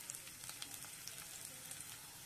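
Garlic browns in hot oil with cumin seeds for palak paneer, a faint, even, rain-like sizzle with tiny pops, heard alone and at low level.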